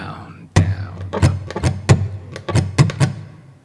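Acoustic guitar strummed in a simple down-down-up campfire pattern: a sequence of bright, percussive strums at an even pace, fairly close and loud, with no talking over them.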